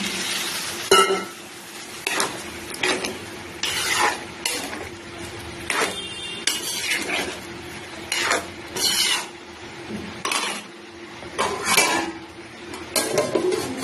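A lid is set onto a cooking pot of khichuri with tomatoes and hot water, amid a series of metallic clanks, clinks and scraping knocks of utensils, each sharp and distinct against a quiet kitchen background.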